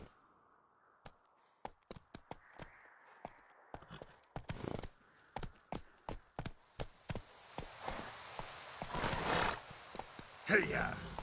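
Hooves of the horse Roach in The Witcher 3 clatter in a steady galloping rhythm, clear and close, then give way to rushing wind and a rider's shout near the end.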